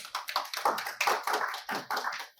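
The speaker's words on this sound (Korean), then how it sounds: "큰 박수로 맞으시기 바라겠습니다" Scattered hand claps from a small seminar audience welcoming a speaker, a handful of uneven bursts close by over about two seconds, no voices.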